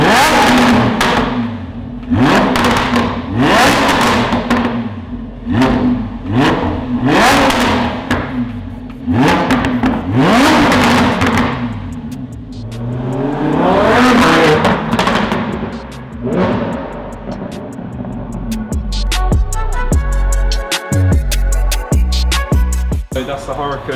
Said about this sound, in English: This car sounds absolutely incredible.